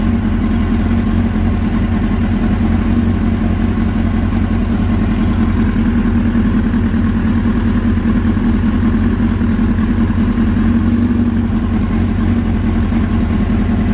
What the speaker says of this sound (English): as I adjust it, we can watch the levels and the idle change